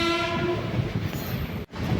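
An express train on the Kollam–Alappuzha line rumbles loudly with a sustained horn blast at the start, wheels clattering beneath, and a brief sharp dropout near the end.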